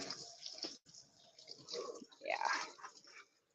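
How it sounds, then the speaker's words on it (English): Cold tap water runs over cooked food to cool it, a quiet uneven splashing stream with short gaps, heard close by. "Maybe I'll run it under cold water."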